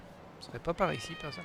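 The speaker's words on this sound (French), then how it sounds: "Oh, c'est un chat." A cat meows in the Lost Judgment video game, two short rising calls under French-speaking game commentary, near and moderately loud.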